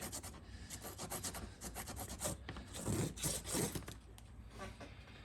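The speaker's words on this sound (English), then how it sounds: "I want to use this heavy grit to put all these vertical lines in the trunk" Heavy-grit sandpaper scores vertical lines into a scale model palm tree trunk, producing close, rhythmic rasping strokes that rub back and forth in quick repeated passes, with a few heavier scrapes near the middle.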